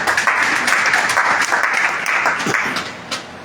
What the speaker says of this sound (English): I think we will clap for Olowo.